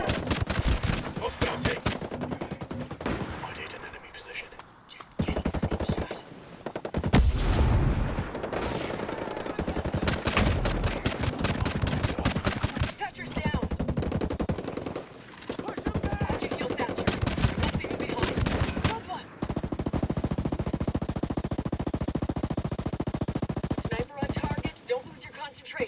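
Rapid gunfire bursts from the video game Ghost Recon Breakpoint, loud and dense, with repeated automatic volleys through the clip and voiced game chatter over it.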